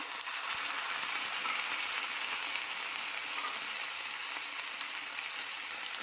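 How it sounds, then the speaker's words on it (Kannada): Chopped bottle gourd frying in oil with softened onions sizzles in a steady, even hiss throughout, fairly close and unbroken, with no talking over it. "ಎಣ್ಣೆಯಲ್ಲೇ ಫ್ರೈ ಮಾಡ್ಕೋಬೇಕು ಇವನ್ನ"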